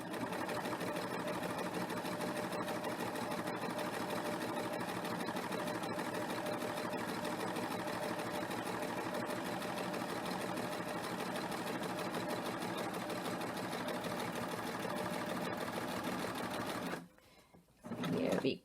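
A serger sews a three-thread rolled edge with heavy thread at a moderate, less than full speed, giving a continuous rapid mechanical whirr that stops abruptly near the end before a brief restart.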